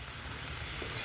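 Bitter gourd leaves with a few small fried fish sizzle and get stirred in a hot pan, a steady soft frying hiss heard close up with no talking.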